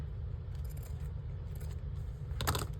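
Scissors cut paper for a journal in three or four short, crisp snips spread over a few seconds. They sit above a steady low hum, with the last snip the loudest.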